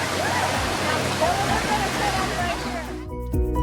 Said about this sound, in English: And there goes Josh down the river